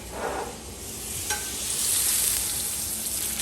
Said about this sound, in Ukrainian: Далі беремо вершкове масло і на сковорідку. Розтопимо.